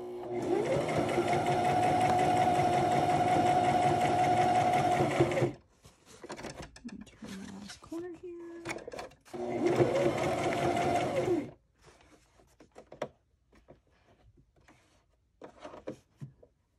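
A sewing machine stitches around the edge of a card-backed journal cover in two long steady runs with a pause between them, close and fairly loud, followed by quieter handling sounds.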